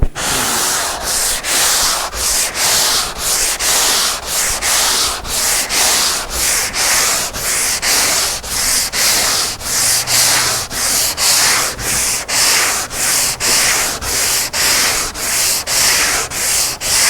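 A sanding tool works over the hull of a boat, giving a loud, steady rasping with regular rhythmic strokes, roughly one per half-second, continuing without pause and with no voices.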